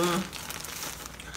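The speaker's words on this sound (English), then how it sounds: "I got a fancy plastic bag for this bikini." Plastic bag for a bikini crinkles close by, a brief rustle at first, then a low, even crackle through the rest.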